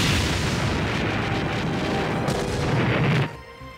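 In a Voltron cartoon battle, the Lazon Beam weapon fires amid explosions: a dense, loud, continuous roar of blasts and booms that drops off abruptly near the end.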